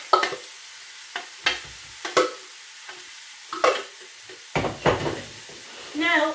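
Lamb chops frying with a garlic, ginger, chilli and coriander mix sizzle faintly beneath close, sharp scrapes and clacks of a utensil stirring in the pan at irregular intervals.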